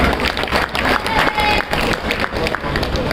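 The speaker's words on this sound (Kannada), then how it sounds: "ನೀವು ಜೋರಾಗಿ ಚಪ್ಪಾಳೆ ತರಬಿಟ್ಟು ಇವರಿಗೆ ಆಲ್ ದ ಬೆಸ್ಟ್ ಹೇಳ್ಬಿಡಿ." An audience at a public event applauds in a burst of dense, loud clapping with crowd noise, sustained across the whole stretch.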